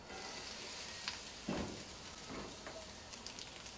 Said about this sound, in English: Put me some butter on the griddle. And I'm going to saute my onions first.